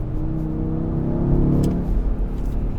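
An Audi RS Q3 Sportback accelerates in automatic sport mode, its engine note rising steadily under a close, continuous road rumble, then easing off slightly near the end.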